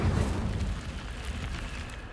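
Incendio fire spell cast in Hogwarts Legacy, a roaring fiery burst that starts loud and full, then settles into a sustained rumbling crackle over about two seconds.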